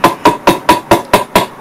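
Seven evenly spaced, loud ringing hammer blows on metal in a metal workshop, close and steady in rhythm with no talk.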